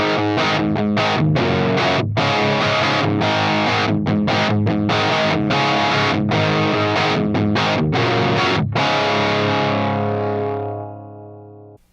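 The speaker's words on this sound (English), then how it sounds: "if you do crank up the clean channel, you get a pretty crunchy rock sound" A Marshall JCM800 2210 guitar amp head with its normal channel cranked delivers a loud, crunchy distorted rock guitar riff, strummed chords with sharp rhythmic stops, ringing out and fading at the end.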